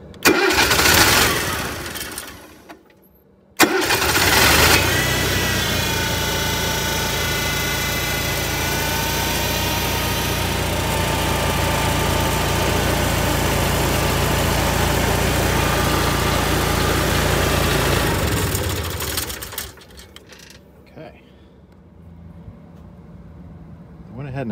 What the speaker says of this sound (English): Let's see if the generator starts.